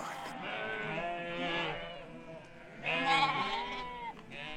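A large flock of sheep of nearly 600 head bleats continuously in overlapping, wavering calls, loud and close, with a louder burst of voices swelling near the end, heard on a nomadic herders' migration.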